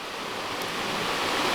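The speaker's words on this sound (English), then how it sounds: "So the water continues down the path" Water rushes steadily down the channel toward Mingus Mill in the Great Smoky Mountains, a dense, even hiss of flowing water with no breaks, close and fairly loud, no voices.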